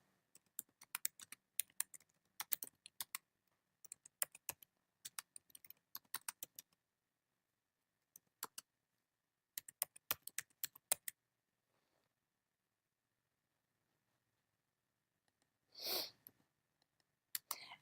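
Bursts of quick, crisp key clicks on a computer keyboard while a tweet is written, close and clear in quiet room, with pauses between runs of typing and a short breathy noise near the end.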